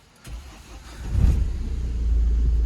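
Renault car engine starting, a short cranking turnover that catches and settles into a steady, loud, close idle rumble with no talk.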